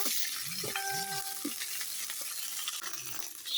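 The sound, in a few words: frying ginger garlic paste with onions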